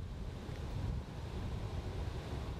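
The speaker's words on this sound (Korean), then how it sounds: "갑자기 거세진 바람." Strong wind gusts suddenly across a rain-swollen river during bass fishing, a steady, dense roar of buffeting air that continues without a break for the whole stretch, with no voices.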